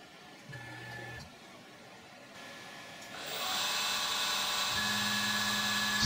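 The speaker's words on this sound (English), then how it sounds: "Spot drilling is the same as before" A CNC machine whirs at low level, then its spindle spins up into a loud, steady high-pitched whine with tonal hums underneath while spot drilling an AR-15 barrel gas block for pinning.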